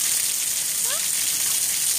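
Steady rain falls outdoors onto plants, a constant broadband hiss of drops that fills the whole stretch at even loudness, with a brief faint chirp partway through and no clear speech.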